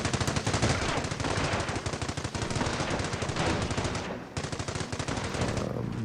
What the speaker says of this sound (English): here's a machine gun. And they start to fire on the grenadier squad